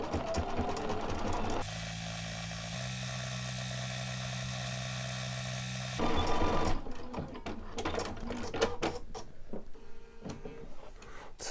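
A home sewing machine stitches a quilt label, its steady motor whir and rapid needle clatter running evenly for several seconds, then stopping and giving way to handling noise and rustling nearby.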